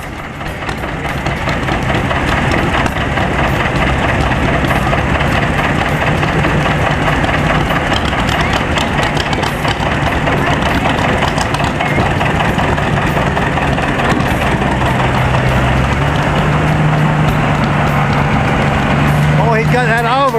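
A six-cylinder Oliver tractor engine idles steadily with a loud, continuous low rumble throughout, while voices murmur faintly in the background.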